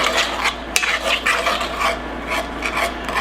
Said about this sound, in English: We're going to stir that in like that.